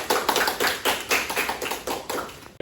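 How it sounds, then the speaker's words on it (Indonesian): A classroom of students applauds a group presentation, with a steady run of many hand claps rising and falling in bursts for a few seconds, close and fairly loud. "Aplaus untuk kelompok 1, kelompok 2,"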